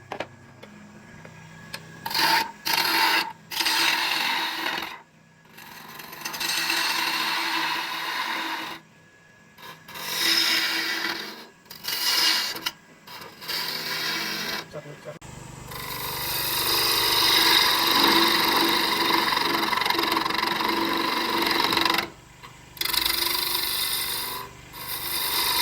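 Bursts of scraping wood cutting on a lathe, with a gouge rasping against a spinning peppermill blank in short bead-cutting passes separated by pauses, then a longer steady cut.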